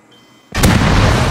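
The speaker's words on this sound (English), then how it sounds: "The smoke rocket." A smoke rocket bursts in the Rust video game, a sudden loud, close blast after near silence that settles into a dense, sustained roar of hiss and rumble.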